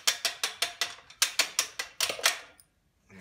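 Sharp metallic taps ring out in a steady rhythm, about a dozen hammer strikes driving a bolt from a Honda Hobbit moped, close and bright with brief decays, then stopping into near silence.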